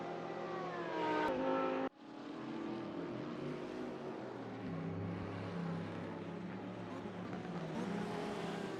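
BMW and Porsche race cars battling at Bathurst's Mount Panorama circuit in an ADAC Masters event, engines roaring continuously with rising and falling pitch as they pass, one car's note cutting off abruptly before the pack noise resumes.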